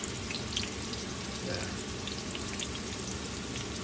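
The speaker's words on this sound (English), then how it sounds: "Why don't I put some, just tiny bit of garlic" Garlic hits a hot pan for a yellowtail soft roe hot pot and crackles in a steady, dense sizzle with small pops scattered throughout, close and even in level.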